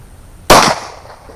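A single sharp gunshot from a reloaded 9mm round fired over a chronograph, one loud close crack with a short fading tail, then quiet.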